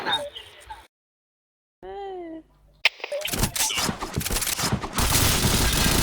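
Gunfire in the video game Point Blank, with rapid bursts of shots crowding the last few seconds, loud and dense, after a stretch of silence and a young voice speaking.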